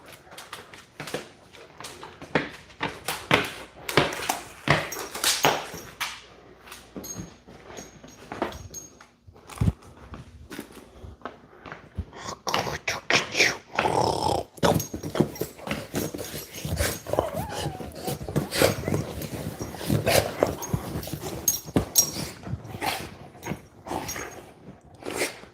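A dog whimpers and growls close by in a garage-like space during a tool haul, with continuous scuffling and rustling as it moves and bites at something for the whole stretch.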